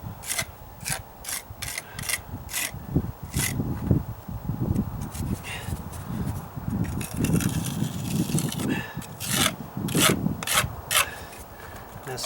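A putty knife scrapes across a stucco patch during a deck dry rot repair, making close, repeated rasping strokes in an uneven rhythm.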